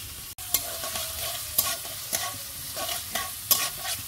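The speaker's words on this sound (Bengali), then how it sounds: "এবার একটু ভাজা ভাজা করব।" Onions fry and get stirred in a pan for Bengali-style mushroom curry, a steady close sizzle broken by repeated sharp spoon scrapes and taps at an uneven rhythm, no voices.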